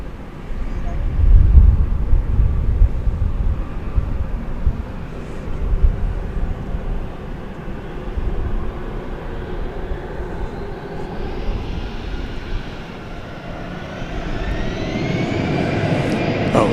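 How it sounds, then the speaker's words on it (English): An American Airlines Airbus A319 lifts off at DFW Airport at night, its jet engine roar building into a steady rumble that swells and rises in pitch toward the end, with some background noise throughout. "there's an American Airlines Airbus A319 lifting off here, flight 1406 to San Antonio"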